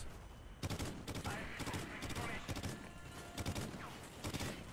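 MSBS gunfire in Call of Duty Ghosts, short rapid bursts of shots in quick clusters, loud and close, with brief gaps between bursts.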